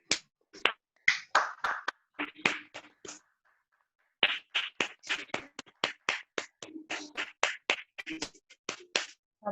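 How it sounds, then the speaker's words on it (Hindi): Audience clapping at an Inner Joy talk, heard as sharp, separate claps in uneven bursts with a brief pause partway through, fairly close and with no talking over them. "जोरदार तालियों से इस ऊर्जा को हम फैलाएंगे।"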